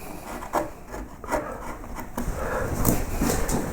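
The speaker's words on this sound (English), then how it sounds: "I'm going to use a curved gouge into that corner there" A curved wood-carving gouge cuts into a corner of a wooden piece, giving soft, close scraping and rubbing strokes with a few short pushes, fairly quiet and with no talk.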